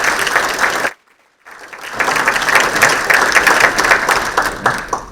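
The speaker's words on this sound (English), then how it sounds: "Now we can give an applause to all the elected officials." Audience applause for elected officials at a State of the City 2023 event, a full crowd clapping loudly with a brief silent gap near the start before the clapping resumes and continues strongly to the end.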